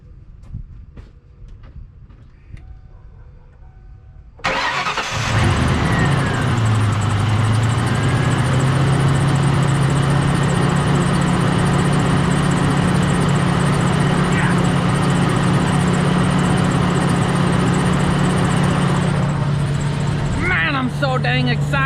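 A Pontiac Trans Am engine cranks and catches on a freshly charged battery after a quieter stretch, then settles into a loud, steady idle with a deep rumble that runs unbroken and close by.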